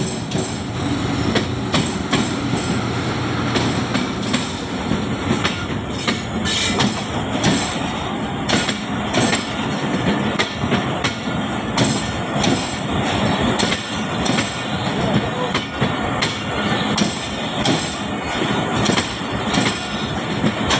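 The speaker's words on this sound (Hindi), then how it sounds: "पेश खिदमत है 40 डाउन जाफ़र एक्सप्रेस सजी सजाई लोकोमोटिव के साथ।" Jaffar Express passenger train passing close with its decorated locomotive and refurbished coaches, a continuous loud rumble with rhythmic clickety-clack of wheels and faint squeals, no voices.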